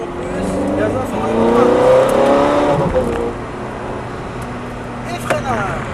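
Ferrari F430 at full throttle on the Ledenon race track, engine note climbing steadily in pitch to a loud peak and then dropping away, with a voice talking over it from inside the car.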